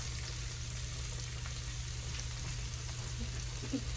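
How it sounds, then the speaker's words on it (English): Half an onion, chopped, sizzles and fries steadily in a skillet, a soft continuous crackle at moderate level with no talk over it. "in our skillet right here, we're gonna do a couple things. We're gonna add half of an onion"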